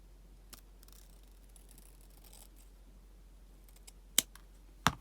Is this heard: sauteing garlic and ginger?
no